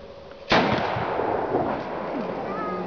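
A historical hook gun and cannons fire at a castle reenactment at Bouzov: one sudden, loud blast that rolls into a long, echoing decay across the grounds.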